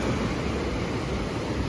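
Sea waves washing up on a Goa beach at night, a continuous close rush of surf and foaming water over wet sand, loud and unbroken.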